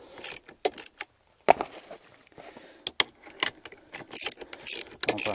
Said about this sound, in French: Quelques tours de clé, et ça va juste faire un clac et se déployer un peu.